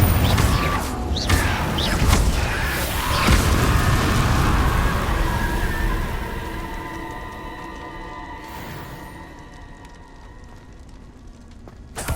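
A Confringo blasting spell in the Hogwarts Legacy video game bursts into a loud, booming explosion with crashing debris, then rumbles and fades over several seconds.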